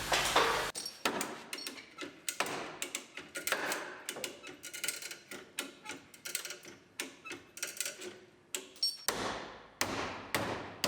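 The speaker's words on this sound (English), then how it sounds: "Hammer back in the stuff that we pulled out a little too far" Repeated hammer blows on the damaged metal body of a 2018 GMC Sierra Denali pickup truck, knocking pulled-out panels back into place. The blows land loud and close in an irregular series of sharp metallic strikes, with no talking.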